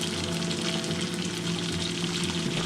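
A steak fries in a pan with a steady, moderately loud sizzle and crackle that holds evenly from start to finish, close by and with no one speaking.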